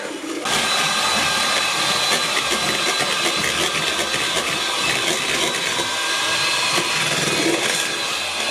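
An electric mixer whirs steadily while mascarpone is spooned in for tiramisu, its motor drone close and constant after a brief start.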